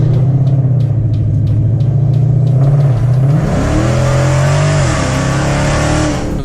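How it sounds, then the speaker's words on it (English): A Corvette engine at a muscle car show revs loud and close, its steady low rumble rising in pitch through the second half as the throttle opens. "And high-tech Corvette right here."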